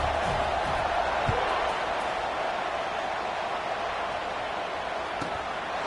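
A football stadium crowd at a Washington vs Michigan State game keeps up a broad, distant roar of cheering around the kickoff, steady and fairly faint, with a few thumps rising out of the din.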